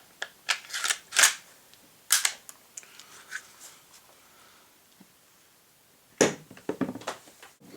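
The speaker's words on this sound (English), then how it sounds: "Let's put the gun together." A Glock pistol is put together by hand, giving sharp metallic clicks and slide snaps in a few quick clusters separated by quiet pauses, close and fairly loud.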